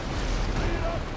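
Cannon fire in the pirate-ship video game Windrose: a brief, dense, booming rumble with a constant low roar and no clear breaks, loud and close.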